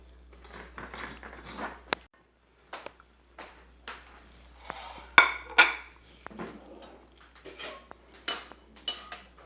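Plates, pans and cutlery clink and clatter nearby as pistachio pesto dinner is plated, in scattered sharp knocks and scrapes with short pauses between, no talking.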